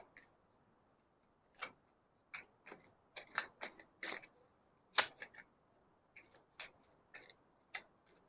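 Tarot cards being handled and shuffled, a quiet series of crisp flicks and taps scattered irregularly over several seconds, with no voices.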